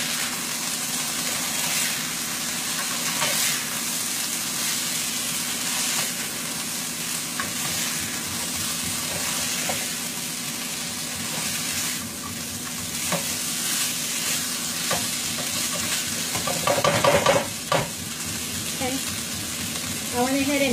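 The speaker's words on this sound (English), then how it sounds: "which at this point would be the bok choy, and the green onions to it, and give it a little stir on there" Bok choy and green onions stir-frying in a hot pan for chicken lo mein, a steady close sizzle with scraping stirs throughout and a louder burst of spatter and clatter near the end.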